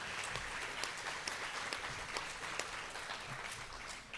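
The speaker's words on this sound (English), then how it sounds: "You can clap for that." A crowd claps steadily throughout, a dense patter of applause at moderate volume with no talking over it, at a Salt Bowl high school football coaches and players press conference.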